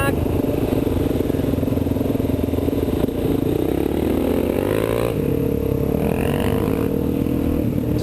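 A dirt bike with a cammed 400 engine, a 440 kit and an XRs Only exhaust, its motor droning steadily and loudly close by, with rising revs near the middle and some mechanical clatter throughout.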